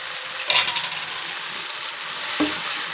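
Cluster beans (goruchikkudu) curry with turmeric frying in a pan, a steady close sizzle with two brief stirring scrapes, no voices.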